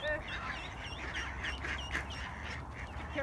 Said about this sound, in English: look at that little goose